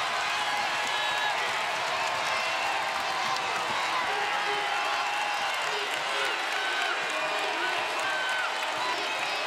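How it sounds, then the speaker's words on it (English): A basketball arena crowd at an NCAA women's tournament game stands and cheers in a dense, continuous roar of voices and whoops that stays loud and steady throughout. "The crowd on its feet."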